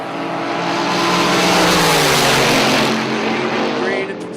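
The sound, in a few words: drag racing cars launching down the strip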